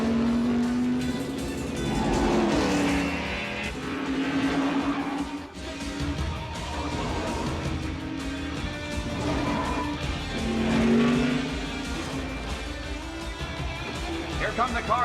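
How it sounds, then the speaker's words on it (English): Race cars roar past toward the finish line, engines revving and surging in repeated waves, loud and close, with a voice talking over the noise throughout. "Here come the cars to the finish line."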